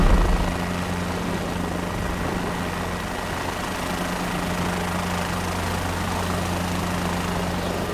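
Helicopter engine and rotor in Microsoft Flight Simulator 2024, a steady low drone with a constant hum, loud and unbroken after a slightly stronger start, with no talk over it.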